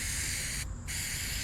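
A spray can hisses steadily and close up during interior restoration work on a 1973 Ford F100, with one brief pause in the stream midway.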